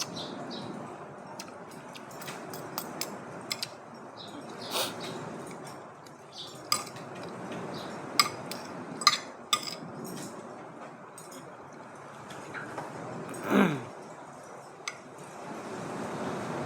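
Scattered clinks and light taps of cutlery against dishes during a meal of paksiw na galunggong, irregular and close, with small metallic ticks spread over a quiet room and no talking.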